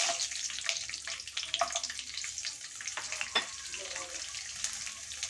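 Garlic cloves sizzle in leftover oil in a home kitchen, with a soft bubbling fry, occasional sharper crackles and light stirring, fairly quiet and close.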